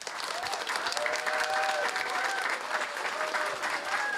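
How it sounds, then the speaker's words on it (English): A university audience in Dublin applauds steadily and loudly, with dense sustained clapping that fills the whole stretch and faint voices mixed in. "give you a big round of applause"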